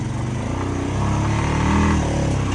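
A Honda DCT motorcycle climbing a hill in automatic mode and holding second gear, a loud, steady engine drone close up with wind rush and slight rises in pitch as it pulls upward.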